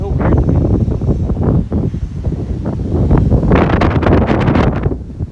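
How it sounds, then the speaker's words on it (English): Strong wind roars and buffets the microphone throughout while walking in Williamsburg, Brooklyn, a steady loud rushing with gusty surges growing harsher toward the end. "it's super windy over here"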